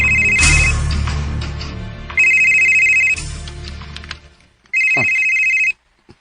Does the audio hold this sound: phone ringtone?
yes